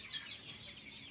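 Chickens in a coop holding about 2000 birds, a faint, continuous chorus of soft clucking and chatter heard from a short distance with no voices.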